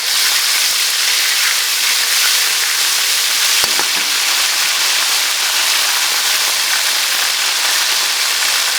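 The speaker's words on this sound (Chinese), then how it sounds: "加一勺的豆瓣酱，来给它爆炒。" Chili bean paste stir-fried in hot oil in a wok gives a loud, steady sizzle and crackle that fills the whole stretch, with a brief clatter partway through and no talking.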